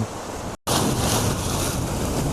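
Steady, loud wind buffets the microphone at a seaside viewpoint by a coastal boardwalk bridge in the Khlong Takok community, Bang Bo, Samut Prakan, with a continuous broad rush broken by a brief dropout.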